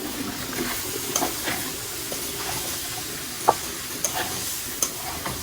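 Eggplant and potato frying in a spiced masala for a fish curry, a steady close sizzle with occasional sharp stirring clicks and scrapes, no voices.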